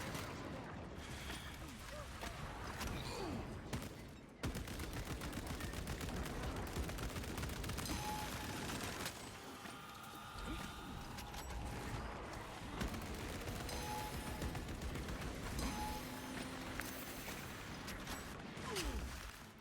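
Gunfire in the video game Warhammer 40,000 Space Marine 2, a dense, continuous battle mix of rapid shots and mechanical clatter that runs the whole way with only a brief drop near the start.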